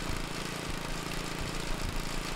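In the Airport Renovator video game, a blower clears dust and grit off an airport runway, giving a steady, rough motor drone with faint knocking pulses and no voices.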